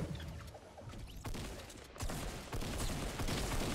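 Rapid gunfire from Fortnite crackles in dense bursts, with several distinct shots and sustained fire building toward the end, fairly faint overall.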